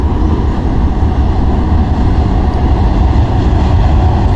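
A Bandel–Naihati local train rumbles across a bridge, a loud, steady, dense roar of wheels and carriages held close throughout with no pause.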